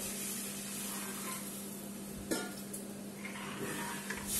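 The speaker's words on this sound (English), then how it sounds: "As we see the rasam boiling" Garlic rasam bubbles in a pot on the stove, a steady simmering hiss with a few light clinks of a utensil, heard alone without talk.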